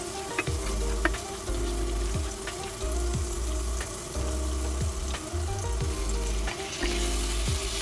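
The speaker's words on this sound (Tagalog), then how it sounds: "Mag-start na tayong mag-saute ng ating mga aromatics" Aromatics sautéing in a pan for chicken with tomatoes, a steady close sizzle with clinks and scrapes of stirring, plus occasional faint running-water sounds.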